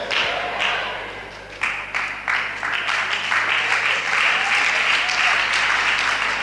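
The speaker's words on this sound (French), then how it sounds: "c'est les femmes seulement qui applaudissent pour moi" Women in a church congregation at a Christian sermon on marriage applaud loudly and continuously. The clapping is dense and close, and it swells in a few waves.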